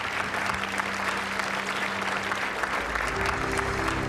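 Warm, steady applause from a luncheon audience greeting the parents of a fallen Navy SEAL, continuous crowd clapping with a low hum beneath and faint voices mixed in.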